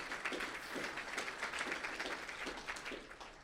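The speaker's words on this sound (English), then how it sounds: "Now double the volume on that golf clap." An audience at a Guns N Bitcoin conference talk claps steadily, a dense even patter of many hands, fairly faint and distant, with no voices over it.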